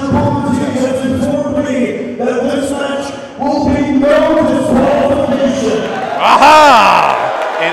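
Wildkat wrestling fans applauding and cheering at ringside during a hardcore match, a loud sustained crowd roar with whoops rising near the end, under an announcer's commentary.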